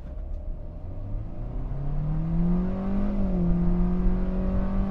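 A 2023 Hyundai Stargazer carrying passengers accelerates hard in sport mode, its engine note climbing steadily in a loud, continuous rising whir from inside the cabin.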